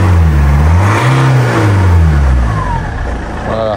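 BMW X3 with a 2-litre engine that starts poorly and puffs white smoke, likely from a faulty injector; the engine cranks, catches and revs with rising and falling pitch, loud and close throughout.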